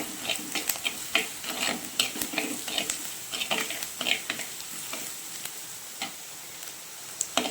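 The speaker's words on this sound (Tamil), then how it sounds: "இப்போ வெங்காயம் வதங்குறதுக்கு கொஞ்சம் உப்பு போட்டுக்கலாம்." Onions sautéing with salt in a pan for paneer gravy, a soft steady sizzle broken by frequent scraping stirs and light clicks of a spoon against the pan, close and with no talking.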